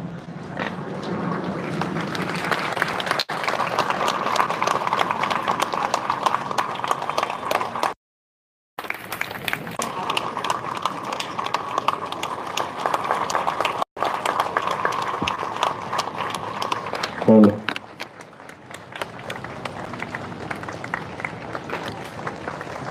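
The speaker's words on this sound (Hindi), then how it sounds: "ये तालियां रुकनी नहीं चाहिए।" Sustained applause from an audience at a spiritual gathering, a dense steady patter of many hands that drops out briefly twice before carrying on at full strength.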